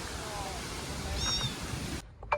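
A cat meows a couple of times outdoors in Kochi amid steady rain noise, the cries faint and brief over the hiss before the sound cuts off near the end.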